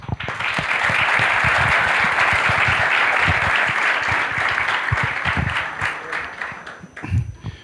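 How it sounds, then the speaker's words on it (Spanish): An audience at a talk on Harvard negotiation and conflict resolution breaks into sustained, loud applause, many hands clapping together before it thins out and fades. "Menos mal que vinieron los aplausos"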